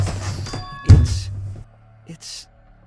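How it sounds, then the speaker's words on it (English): A game controller thrown down lands with a single heavy thunk, followed by a faint rattle and brief noises, near and loud after some talking. "That was the sound of me just throwing my controller."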